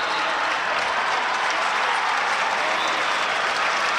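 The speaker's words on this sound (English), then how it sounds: "You hear the applause." Steady, dense applause from a large crowd fills a state wrestling championship arena, sustained and even throughout with no breaks.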